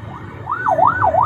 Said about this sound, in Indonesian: Kemudian ada sirene juga, ya. Ada sirene juga seperti ini.